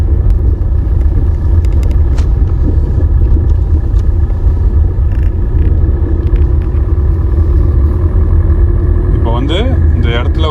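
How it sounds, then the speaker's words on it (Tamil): A car engine drones steadily in second gear during a driving lesson, a loud continuous low rumble inside the cabin with faint clicks and a brief voice near the end. "நம்ம வந்து செகண்ட் கியர்லேயே தான் ஓட்டி பழகுறோம்."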